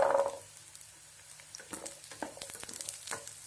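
Small shallots dropped into hot oil with already-browned garlic for a garlic kara chutney, giving a steady close sizzle and frying crackle with occasional stirring scrapes and clicks, no talking.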